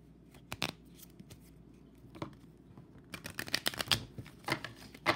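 Loteria picture cards, a Chronicle Books deck, shuffled by hand in a quiet room: irregular flicking and riffling bursts, sparse at first and then a denser run of snappy card slaps, close and fairly quiet.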